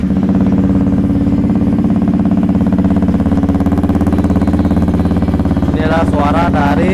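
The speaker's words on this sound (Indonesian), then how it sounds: "Suara dari knalpot Leo fins made in China dengan pipa yang di custom menghadap ke atas. Ini untuk suara idle-nya seperti ini." A Yamaha XSR motorcycle idles steadily through a custom upswept Leo fins exhaust, a close, loud, even low rumble throughout, with a voice briefly heard near the end.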